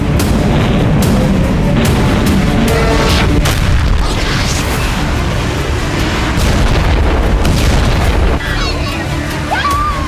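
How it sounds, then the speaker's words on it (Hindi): A Hezbollah rocket barrage strikes northern Israel. Heavy, continuous booming and rumbling explosions fill the air with overlapping blasts and crackles, and voices are faintly mixed in. "इजराइल में हिजबुल्लाह ने इसी तरह रॉकेटों की बरसात की"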